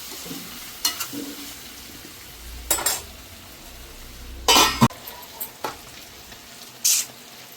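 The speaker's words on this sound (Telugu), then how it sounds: "నూనెలో బోటీని, ఉల్లిపాయలు, పచ్చిమిరపకాయలు బాగా వేగిన తర్వాత బోటీని వేసుకొని బాగా మగ్గనివ్వాలి" Tripe fries in oil with onions and green chillies for gongura boti curry, a faint steady sizzle broken by several sharp spoon-and-pan scrapes and clinks at irregular intervals, close and without talk.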